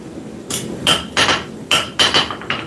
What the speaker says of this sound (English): I am using a 3-pound hammer, which is as heavy as some of the sledges